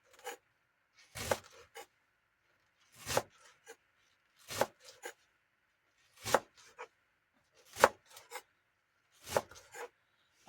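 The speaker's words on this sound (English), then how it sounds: "I'm going to keep on chopping." A knife chops through garlic leaves on a board in short bursts of quick strokes, repeating roughly every one and a half seconds with pauses between.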